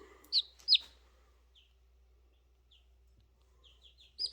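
A few high, thin chirps from a young Australorp rooster chick, two sharp ones early and a cluster at the end, with quiet stretches between.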